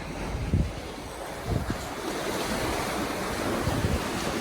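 Sea water moves along a beach, with steady rushing surf and wash and a few louder surges, mixed with wind buffeting the microphone and no voices.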